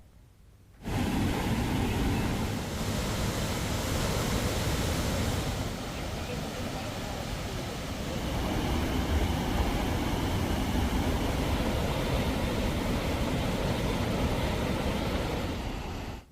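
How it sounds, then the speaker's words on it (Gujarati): The Balaji waterfall beside the Bhuj–Nakhatrana highway pours after heavy rain, making a loud, continuous broadband roar of rushing water that starts abruptly and holds steady throughout. "ધોધના ખળખળ વહેતા પાણીએ વાતાવરણમાં મહેક પ્રસરાવી છે"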